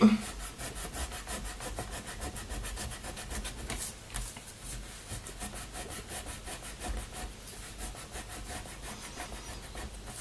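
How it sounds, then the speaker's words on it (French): Rapid back-and-forth rubbing of an eraser across paper while crafting a small backpack, a steady scratchy friction that runs without pause, close and moderately loud, with no talking. "On va gommer celui-là aussi."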